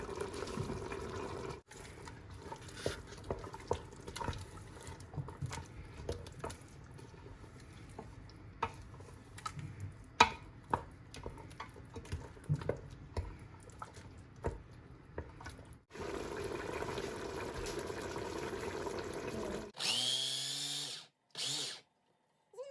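A food processor chops celery, parsley and coriander with a whirring motor in bursts and pulses, close and fairly loud, stopping briefly partway and ending with a few short clattering pulses.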